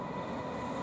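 Freight train hauled by a JR EH500 electric locomotive on the Musashino Line Omiya branch, a faint steady rolling rumble of wheels and wagons at a distance, with no voices.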